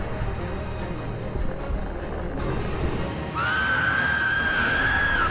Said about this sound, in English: Yeah, the scream, I remember that now